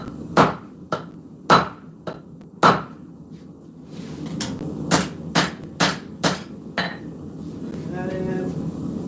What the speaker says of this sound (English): I absolutely love the forging process of knives.